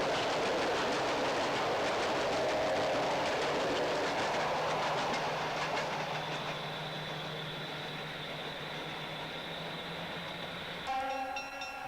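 The North Star passenger train rounds a curve, its rumbling wheels and rail clatter loud and continuous before a horn sounds out clearly near the end.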